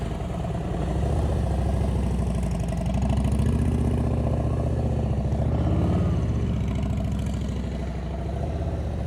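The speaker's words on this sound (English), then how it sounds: "I heard his throttle go up." A motorcycle engine idles steadily throughout during slow-speed riding practice, its revs swelling briefly midway as the throttle rises, then settling back to a rumble.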